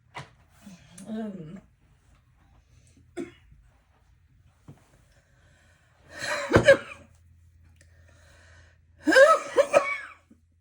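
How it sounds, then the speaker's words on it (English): A bronchitis coughing fit, harsh and throaty in separated bursts, with gasping breaths and quiet pauses between, close and loud. "I'll suddenly have a coughing fit."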